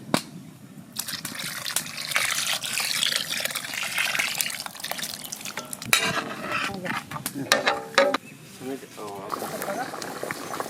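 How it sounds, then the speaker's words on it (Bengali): Tamarind water goes into a pot of mixed vegetable curry, bringing liquid splashing and bubbling along with stirring and sizzling in the pan. A person talks over much of it. "তেঁতুলগুলা জলটা দিয়ে দেবো।"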